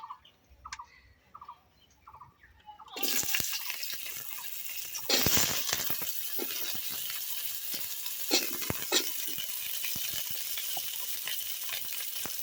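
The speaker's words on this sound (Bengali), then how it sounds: "ওই একই তেলের মধ্যে এখন আমি সবজিগুলোকে ভেজে নেব প্রথমে আমি ভেজে নেব উচ্ছে" Sliced bitter gourd hits hot oil and bursts into a loud, crackling sizzle after a few quiet seconds of faint tapping, then keeps frying steadily with sharp pops and occasional stirring scrapes.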